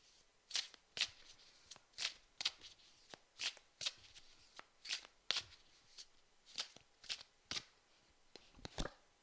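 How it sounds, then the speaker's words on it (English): Tarot cards are shuffled and drawn in a quiet room, giving a series of sharp, close riffling snaps at a loose, irregular rhythm, each burst brief and crisp against near silence. "I'm going to draw a card from here."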